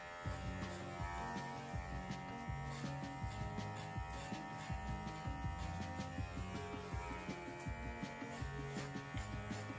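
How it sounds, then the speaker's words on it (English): Electric clippers buzz steadily and close while trimming the long coat of a Lhasa Apso on its sides. The motor hum runs continuously with small, rhythmic changes as the blade moves through the hair. "I just kind of shave just a little bit on the sides."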